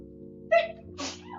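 A single sharp sneeze bursts out close by over a low steady hum, followed about half a second later by a softer breathy exhale or second sneeze-like sound during a livestreamed cooking hangout.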